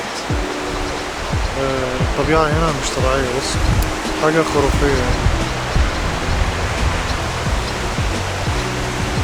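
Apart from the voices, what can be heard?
two rivers merging into one, flowing water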